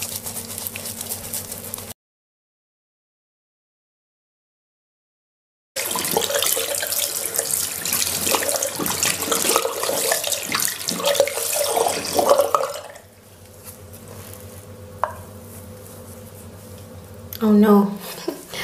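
Tap water runs into a sink while makeup brushes are rinsed, a steady close splashing rush broken by a gap and then fading to quieter trickles and handling noises near the end.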